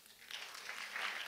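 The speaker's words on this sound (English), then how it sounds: "a round of applause." Brief, fairly faint applause from an audience at an international migration dialogue conference session, a soft wash of scattered clapping swelling slightly toward the end with no voices over it.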